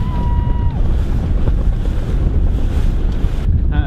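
Steady wind rushing over water as a sailboat tacks, with boat and sail noise, a continuous loud broadband roar with faint creaks throughout.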